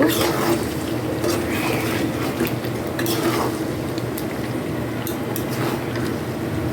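Meat braising in a pot is stirred in a steady, close scraping rhythm over a continuous low sizzle, with faint utensil clinks against the pot throughout.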